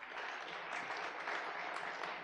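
Audience applause at a talk on the energy transition to a low-carbon economy, a steady, even wash of clapping from a crowd that holds at one level for a couple of seconds with no voices.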